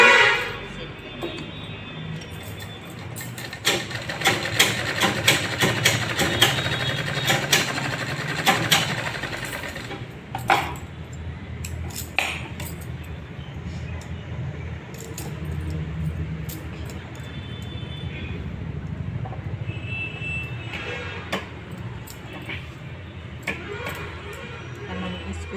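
A sewing machine stitches a lined blouse in bursts of rapid rattling, loud at first and then quieter and intermittent, with a person speaking at times over the clatter.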